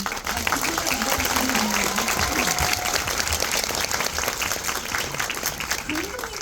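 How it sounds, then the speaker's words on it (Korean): A theater audience at a film talk event claps in sustained, dense applause that fills the room, loud and continuous throughout, with a host's voice over it. "먼저 아까 박수를 좀 주시긴 했는데 조금 더 큰 박수로 한번"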